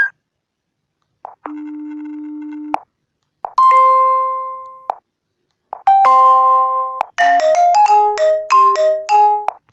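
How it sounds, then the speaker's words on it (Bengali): Several short Imo app ringtones play one after another on a phone, separated by brief silences: a steady buzzing tone, then chiming melodic tones, ending in a rapid tinkling tune. "আমরা অডিওতে ক্লিক করে আমি আপনাদের সবগুলা রিংটোন শোনাচ্ছি দেখুন"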